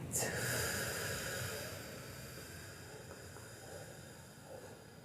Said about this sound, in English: let's inhale for 4. Exhale for 8.